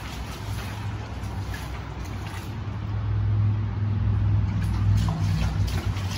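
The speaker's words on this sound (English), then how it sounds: "Why are we hearing cars?" Cars passing outside, heard from deep inside a long tunnel as a muffled, rumbling road roar that swells and fades, echoing dully along the walls with no one talking.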